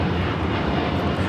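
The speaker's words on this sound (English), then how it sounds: "This is LL Flight 6 taking off to Tel Aviv on the 787-9 Dreamliner in the retro livery." Boeing 787-9 Dreamliner in retro livery on its takeoff roll at LAX, a steady loud broadband jet engine roar without pause.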